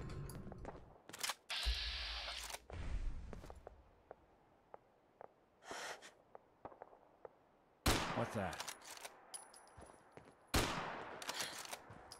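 Rifle gunfire in the video game Fallout 4: a handful of loud, sharp shots spaced irregularly across the stretch, some with bursts of rapid fire, separated by quieter ambient game noise.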